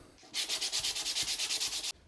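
Rhythmic sandpaper strokes rubbing across 3D-printed PETG plastic, about a dozen quick even back-and-forth passes, close and steady, then stopping.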